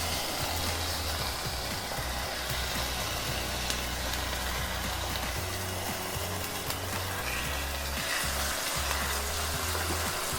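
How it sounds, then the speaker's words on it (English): Halved cod fillets fry in olive oil in a cast iron skillet, putting out a steady, dense sizzle that holds close and even the whole time, with faint low rumbling underneath and no talking. "I'm just going to add these to the skillet and get these cooking"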